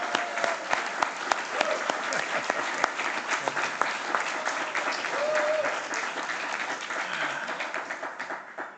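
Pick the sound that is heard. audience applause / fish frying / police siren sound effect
audience applause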